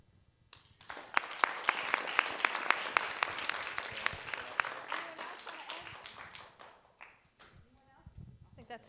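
A crowd of kids and adults at a Let's Move! event with the LA Galaxy breaks into loud applause, dense clapping that swells and then gradually thins out, with voices and cheering mixed in toward the end.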